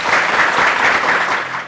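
A studio audience claps in a brief, loud, dense burst of applause that fades slightly at the end.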